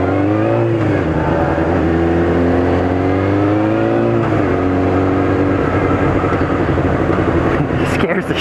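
Engine of a 250 motorbike held at a steady, loud drone with shifting revs under throttle, running throughout while a person speaks over it.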